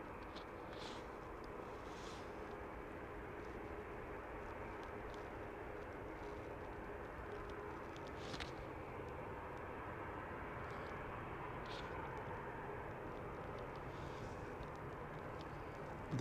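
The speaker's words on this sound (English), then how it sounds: "There's prop coming in from Belfast." Propeller airliner inbound from Belfast on approach to Manchester Airport at sunset, a faint, distant and steady engine drone that holds level throughout with no talk over it.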